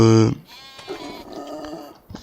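A sheep at the livestock dealer in Farming Simulator 25 lets out one loud, close bleat at the start, followed by quieter animal sounds and some talking.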